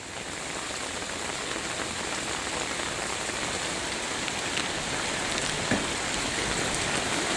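Heavy continuous rain falls on the flooded main market street of Kashipur, Uttarakhand, a dense, steady roar of rain hitting water and surfaces with no pauses.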